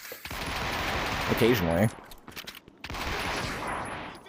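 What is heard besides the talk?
gunfire from a gun in a video game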